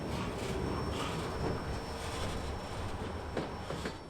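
A CSX S-800 military freight train on the Kingsland Subdivision in Florida's Jacksonville division gives a steady, moderately distant rumble with faint wheel noise and a brief squeal, no one speaking.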